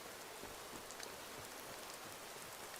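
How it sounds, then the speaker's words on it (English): Rain falling in Skyrim Special Edition along a road near the Guardian Stones, a soft steady hiss of drops with light patter throughout and no voices. "And now all of a sudden we've got rain again."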